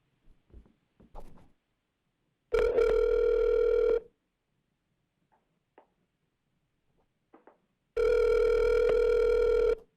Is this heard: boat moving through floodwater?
no